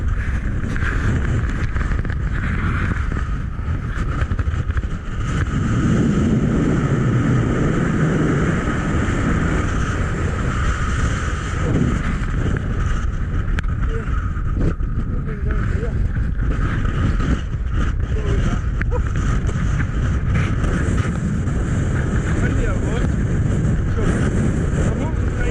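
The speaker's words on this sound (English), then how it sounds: "Blowing a gale." Strong gale-force wind buffets an outdoor campsite, a loud, continuous low roar with constant gusting rumble against the microphone, steady for the whole stretch with brief surges.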